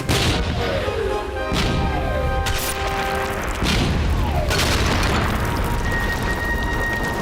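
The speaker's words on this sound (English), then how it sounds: "Marines! Make ready! Where's Maguire? I don't know, sir. Present! Fire! Fire!" Volley of musket fire from marines aboard a sailing ship in a period naval drama: loud booming shots and crashing blasts in succession over a dense, continuous battle din.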